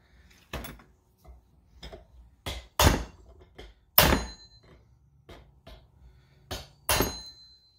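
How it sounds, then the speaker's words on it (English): Sharp metallic taps of a hammer driving a dull punch to tighten the clutch on a Husqvarna 435 chainsaw, about a dozen irregular strikes, some light and a few hard ringing blows, close and alone. "I want to take a little, a more dull punch than like what we used to take it off, to hit in here to tighten it up"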